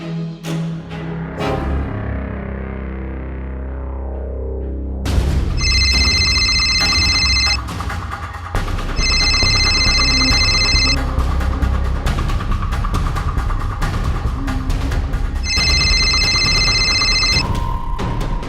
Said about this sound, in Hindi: अरे पूरी रिंग गई है लेकिन उसने उठाया नहीं।